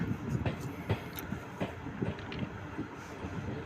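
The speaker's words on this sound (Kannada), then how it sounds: "ಗುಬ್ಬಿ ರೈಲ್ವೆ ನಿಲ್ದಾಣದೊಳಗೆ ಹೋಗ್ತಿದೆ ನಮ್ಮ ಟ್ರೈನು" A train rolls into Gubbi railway station on the KSR Bengaluru to Challakere line, its wheels thumping in an irregular rumbling rhythm heard from onboard, with wind noise and a voice talking over it.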